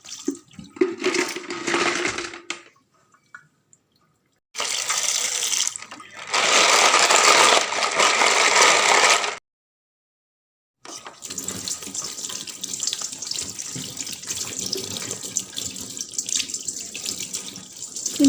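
Tap water runs in bursts while money plant leaves are rinsed by hand, splashing steadily with a few abrupt pauses where the flow stops, close and fairly loud with no talking.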